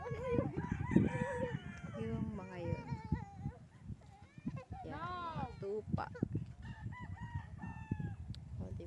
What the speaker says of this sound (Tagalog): May mga alagang manok sila dyan.